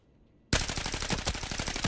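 Rapid automatic gunfire in a shooter video game, close and loud, bursting in abruptly after a half-second of near silence and continuing in a fast, steady rattle of shots.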